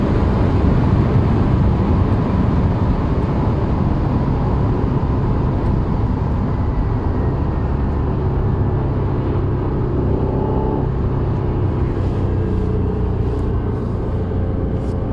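Honda NSX sports car on the road, a steady, loud engine drone and low rumble of tyres and wind heard from inside the cabin, continuous throughout with no talk.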